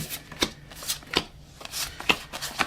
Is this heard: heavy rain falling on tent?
no